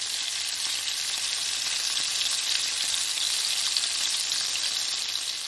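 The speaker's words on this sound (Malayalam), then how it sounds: "എണ്ണ ചൂടായി വരുമ്പോൾ കുറച്ച് കറിവേപ്പില ഇടുക. അതിലേക്ക് മാഗ്നേറ്റ് ചെയ്ത് വെച്ചിരിക്കുന്ന ചിക്കൻ ചേർക്കുക." Marinated chicken with curry leaves fries in hot oil, giving a steady, dense, close sizzle that holds evenly throughout with no talk.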